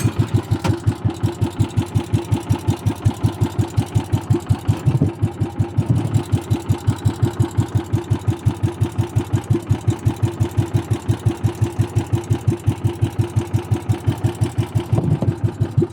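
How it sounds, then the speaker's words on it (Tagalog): A boat engine idles steadily with a regular, rapid chugging pulse that holds an even pace from start to finish, close by and with no voices. "Pandarin ko makina ko"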